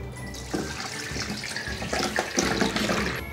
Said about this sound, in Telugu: ఈ వేడి నీళ్ళు డ్రైన్ అయిపోయిన తర్వాత ఒక బౌల్లో వేసుకుందాము